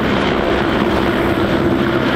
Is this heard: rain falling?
no